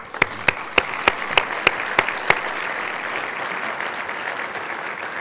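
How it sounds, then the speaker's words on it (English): Applause for students at a university business symposium lunch: a few sharp, close claps ring out first, then a broad wash of many hands clapping continues at moderate volume. "I think we need to give all these individuals an incredible round of applause"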